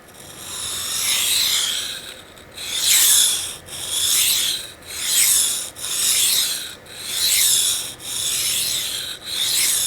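A knife blade is sharpened on a wet Kuromaku Blue/Black 320 water stone: loud, steady rasping strokes in a regular back-and-forth rhythm, about eight passes with brief pauses between them, close up and with no talking.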